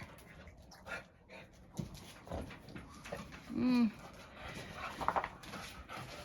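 A dog pants and whimpers quietly close by while people talk softly in the background.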